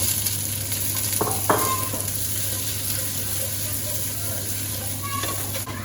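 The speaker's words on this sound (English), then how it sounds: "Give it a good stir, and then add the vegetables" Garlic, chili and vegetables stir-fried in a smoky pan, a steady background sizzle with a few sharp clinks of utensils against the pan early on, no voices.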